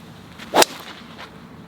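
Fairway wood club striking a golf ball on a course: one close, sharp swishing crack, followed by a faint trailing whoosh, with no voices.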